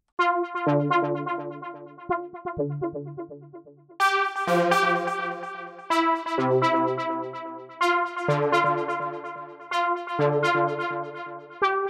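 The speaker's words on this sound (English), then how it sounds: "Another lead which is more of a background and fill up lead is lead Seriously" A bright Diva synth lead plays a repeating deep melodic house phrase with sustained, rich tones, sitting like a background fill line, no voices.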